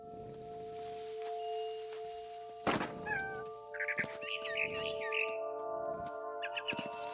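In the video game What Remains of Edith Finch, a cat gives a series of short, close meows and chirpy mews after a sharp thump, over a low, steady ambient hum.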